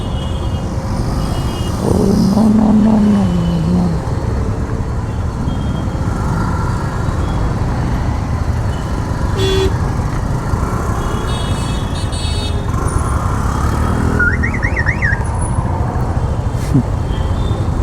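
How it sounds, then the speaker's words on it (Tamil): Heavy Chennai road traffic heard from a bike taxi: a constant roar of engines with passing vehicles, scattered horn toots and a brief reversing beep, loud and continuous throughout. "சரியான டிராஃபிக் இப்பயும் டிராஃபிக்காக தான் இருக்குது"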